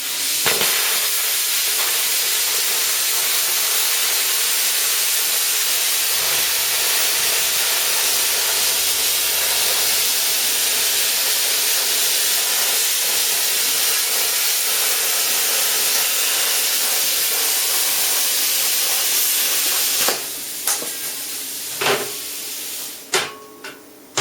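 A plasma cutter slices metal, fed by an air compressor, with a loud, steady hiss that runs unbroken for about twenty seconds, then breaks into several short sharp bursts and pops as the cut ends.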